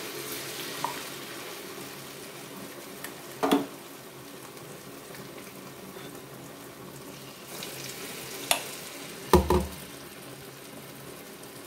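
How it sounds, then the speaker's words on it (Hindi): A snack frying in oil until golden brown, giving a faint steady sizzle with a few soft clinks and pops scattered through, close by and with no talk. "बस ये लाल होने तक, गोल्डन ब्राउन होने तक तलना है, निकालना है, खाना है बस।"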